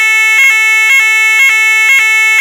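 An ESSER fire alarm sounds loud and close, a steady electronic tone pulsing in a regular rhythm of about two beats per second, with nothing else heard.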